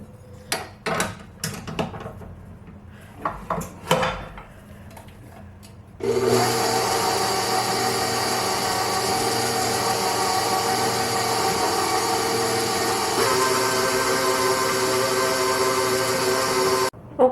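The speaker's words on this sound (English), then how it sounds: "So now all of this gets put into my mixer. It's mixed up until it resembles coarse crumbs." Stand mixer whirring steadily as it cuts fruit and nut biscotti dough down to coarse crumbs, a loud continuous motor drone that kicks in after a few seconds of scattered kitchen knocks and runs on unbroken to the end.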